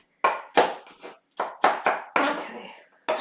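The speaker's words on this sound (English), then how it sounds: "That's just cutting up your celery, so it goes really small" A knife chops celery into very small pieces on a board, a series of about eight sharp, close, loud cuts in an uneven rhythm with short gaps between them.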